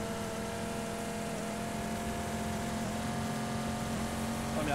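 A car engine roars as it climbs a hill in PUBG (PlayerUnknown's Battlegrounds), a sustained mid-pitched drone with steady harmonic whine, moderately quiet and rising slightly at the end.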